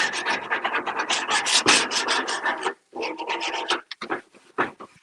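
A scraper rasps hard across outdoor grill grates while ribs are grilled, in quick rough back-and-forth strokes, loud and close, with a brief pause and then lighter, scattered scrapes.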